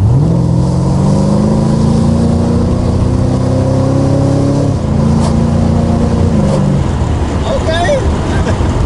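An LS V8-swapped Mazda RX-8 pulls hard at full throttle, a loud, deep engine note climbing steadily in pitch for several seconds before a gear change, then easing off into road and wind noise, with people speaking over it.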